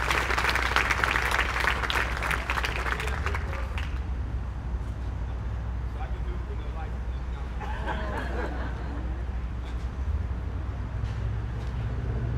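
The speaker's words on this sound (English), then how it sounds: "You give the members of AMLA a round of applause" A city audience gives members of a leadership team a round of applause: loud crowd clapping for about four seconds that then fades into quieter room murmur and background babble.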